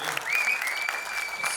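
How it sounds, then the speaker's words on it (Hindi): Steady applause from a crowd at a film cast event, a dense continuous patter of clapping, with a sustained whistle tone running through it. "प्लीज़ एक जोरदार तालियां"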